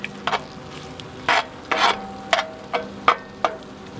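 Sausage and egg frying together in a skillet for breakfast burritos, a steady sizzle broken by a run of scraping stirs at an even pace, close and clear with no voices.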